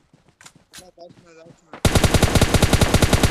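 Gunfire in the mobile shooter PUBG Mobile Lite: after a brief stretch of voice, a loud, rapid burst of automatic fire rattles on continuously in an even, fast rhythm to the end.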